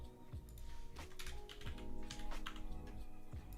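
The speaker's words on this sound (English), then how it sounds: "one-hand typing, maybe not the best at 6:30 in the morning" A computer keyboard clicks under one-handed typing, giving irregular, soft keystrokes close by with a few heavier taps, alone without talk.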